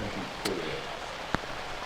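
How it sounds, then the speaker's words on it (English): Rain comes down at an outdoor archery range during a senior pro shootdown, a soft continuous hiss broken by two short, sharp knocks, one of them louder, with no talk over it. "You can see that rain coming down."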